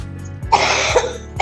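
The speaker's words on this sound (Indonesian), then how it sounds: "Maaf, gue agak batuk." A few short, harsh coughs from one person, close and loud, in quick succession.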